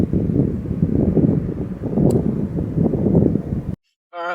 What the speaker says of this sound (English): I'm having a little bit of trouble with the wind